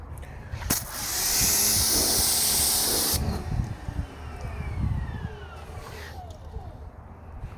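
A pressure sprayer lays Quivr hot coat onto a car in a loud, steady hiss lasting a couple of seconds. Softer rinsing spray and light water noise follow.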